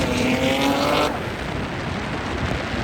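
Toyota Supra driving, its engine tone rising in a steady harmonic whine for about a second before dropping to a broad, rushing drone of road and engine noise at fairly constant loudness, with no talk.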